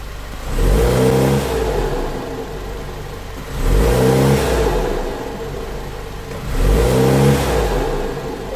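A car engine in an Audi A4 B8 with newly replaced motor mounts revs three times, each surge rising to a roar then settling back to a rumbling idle, close by with no talking.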